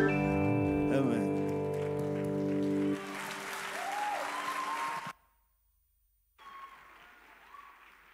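An audience at a church service claps for a boys band, the applause coming after a fading musical tone. It swells for a couple of seconds, then cuts to a brief silence before a quieter stretch of noise.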